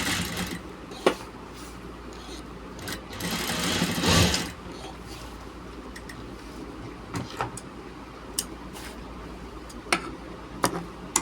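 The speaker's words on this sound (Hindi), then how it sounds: "बिल्कुल एकदम बेहतरीन सिलाई लगा दी इसमें" A sewing machine stitches a gents shirt during a refitting in a short, loud whirring burst around the middle, surrounded by quieter handling, clicks and a low background hum.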